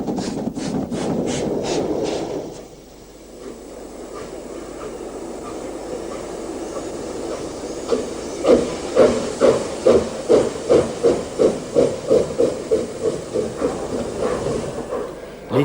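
An SNCF 141E steam locomotive from Montluçon lets off a loud, steady hiss of steam, then works up to a rhythmic run of exhaust chuffs that gradually quicken.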